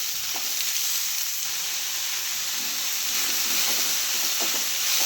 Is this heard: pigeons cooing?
no